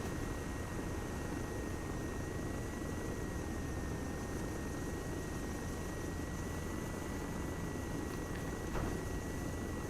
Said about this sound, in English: Seems to be a lot of choppers today, Mr. Bourne.